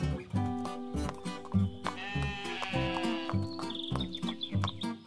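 Sheep bleat repeatedly in a rhythmic series of close, loud, wavering calls on a farm, joined midway by higher, thinner cries and chirps.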